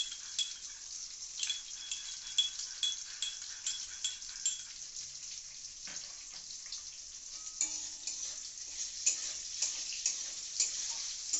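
Vegetables fry in a pan for fried rice, a steady hiss of sizzling oil with scattered scrapes and light clinks of a utensil stirring through them, close and continuous with no voices.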